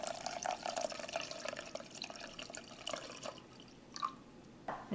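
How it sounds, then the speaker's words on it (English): Hot chile oil pours into a Pyrex glass cup, a faint trickling and dripping of liquid with small sizzling bursts and a few light clinks, quiet and close. "Careful when you pour your oil."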